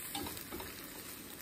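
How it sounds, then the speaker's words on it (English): Chorizo and cleavers leaves stirred around in a hot frying pan, giving a continuous close sizzle with soft scraping, steady and fairly quiet over the short stretch, with no talking. "keep stirring it around, trying to make sure that the cleavers get mixed really well into the chorizo"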